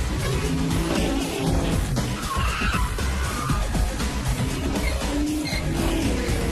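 A car driven by Carrie accelerates hard with the throttle floored, tires skidding and squealing over a loud, dense engine roar that holds steady for several seconds.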